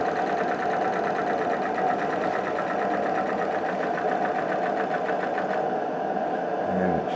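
Ernst Haage compressed-air motor, running with its valve only slightly open, gives a continuous fast mechanical chatter with a steady rhythmic hiss, loud and close, then slows and fades near the end as it shuts off.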